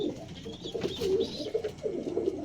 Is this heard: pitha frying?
no